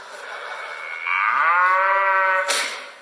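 A cow moos once, a long loud low bellow swelling in the middle and cutting off sharply, with a faint call before it.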